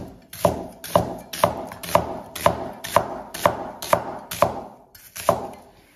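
A knife slices half an onion into strips on a board in about ten evenly spaced, crisp chops, each one sharp and close.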